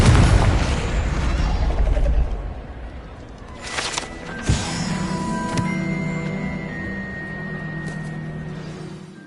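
Fiery Confringo spell blast in the Hogwarts Legacy video game: a loud, rumbling explosion at the start that fades over a couple of seconds, then sharp impacts and a sustained magical hum with game sounds.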